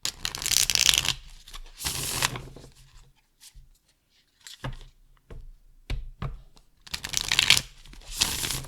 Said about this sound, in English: The cards just glide over each other so well, and it's just such a dream to shuffle.